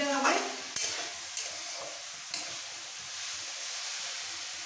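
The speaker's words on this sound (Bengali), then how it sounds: "এইভাবে পাওভাজির সবজিটা একটু হালকা ভেজে নিতে হবে" Pav bhaji vegetables fry lightly in a pan with a soft, constant sizzle, stirred now and then with a few brief scraping clinks near the start.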